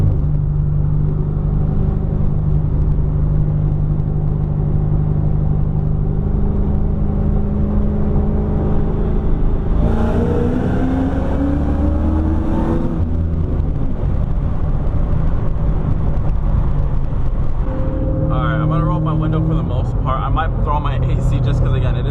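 Ford Mustang with a T56 manual transmission accelerating onto a freeway, a loud steady engine drone and road rumble heard from inside the cabin, with pitch rising through the gears and a voice talking over it.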